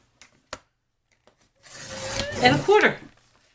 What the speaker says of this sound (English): place it in your cutter and cut it at 4¼